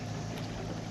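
Trolling motor running on a fishing boat on Mark Twain Lake, a steady low droning hum with water noise, continuous and fairly faint, with no talk.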